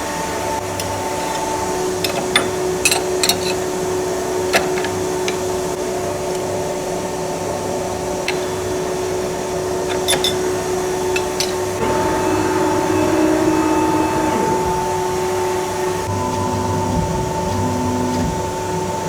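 A machine tool cuts text and chamfer parts into a sheet on a boat frame building table, giving a steady motor whine with tonal hums and scattered sharp ticks, and a louder cutting passage partway through.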